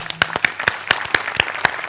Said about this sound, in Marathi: एकदा आशाताईंसाठी जोरदार टाळ्या.